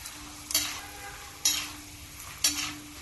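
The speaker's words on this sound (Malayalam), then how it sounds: "കുറച്ച് നിലക്കടല ഇട്ട് വറുത്തെടുക്കാം." Peanuts frying in hot oil for nasi lemak: a steady soft sizzle broken by three sharper bursts of stirring and spatter about once a second, close by, with no talk.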